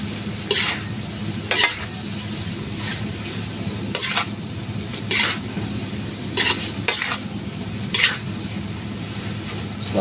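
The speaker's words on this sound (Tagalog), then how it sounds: "Siyempre halo-haloin natin mga idol para lumapot ang sabaw." Chicken adobo with white sugar being stirred in a frying pan, sizzling steadily with repeated scraping strokes of a utensil against the pan every second or so, close and fairly loud.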